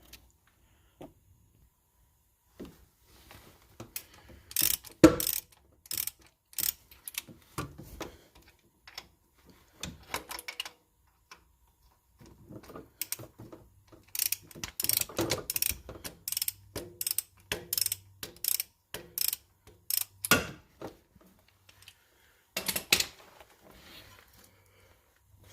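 A ratchet wrench works on the belt tensioner bolts of a 2010 Ford Escape, giving off bursts of quick mechanical clicks in uneven runs with short pauses between them. The sound is close and clear, and nobody speaks.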